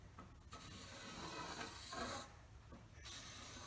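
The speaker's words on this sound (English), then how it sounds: "I'm marking it out to 4 inches right now" A marker drawn across a plate while marking it out to 4 inches: faint, dry rubbing strokes in several short passes, quiet and close, with no talking.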